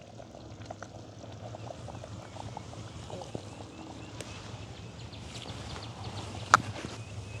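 Soft, steady bubbling and simmering with small pops from fish curry in a pot just taken off the stove, fairly quiet and continuous, close by with no talking.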